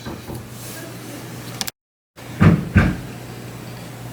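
A neighbouring hotel room door shuts twice through the wall, two dull thuds a moment apart, heard from the next room over steady low room hum.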